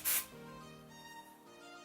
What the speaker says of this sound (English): If you want, you can add a little bit more dry shampoo.